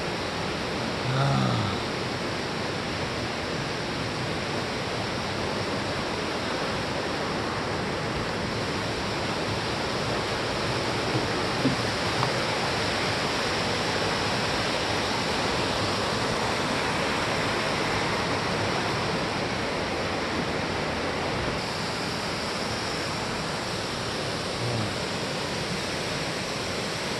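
Yongchu Waterfall in Juwangsan roars loud and steady from close by, a dense, unbroken rush of falling water filling the whole stretch with no talk.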